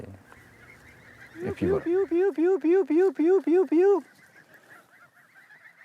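Four-week-old geese at a foie gras farm honk in a fast, even series of about eight loud calls, following a brief spoken phrase and some background noise.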